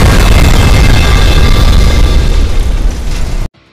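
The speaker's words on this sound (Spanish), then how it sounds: "El Spider no se rinde aunque esté herido y usa todo su poder para darle tremendo cañonazo al Skibidi tanque, que termina recibiendo la explosión matándolo al instante" A loud, booming explosion from a Skibidi Toilet animation as a cannon blast hits a toilet tank, a dense roaring burst that holds for about three and a half seconds before cutting off abruptly.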